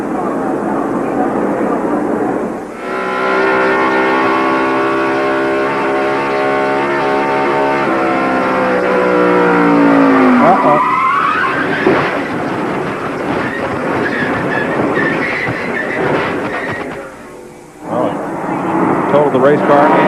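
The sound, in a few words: NASCAR race car engine heard from in-car camera, 1993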